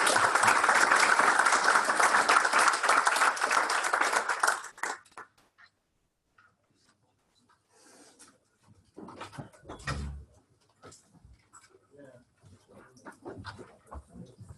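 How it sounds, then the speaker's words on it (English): An audience claps for the speakers at an offshore wind innovation competition event, a dense burst of applause lasting several seconds before stopping abruptly, followed by quiet room sounds and a few faint voices. "a round of applause for all the speakers as well"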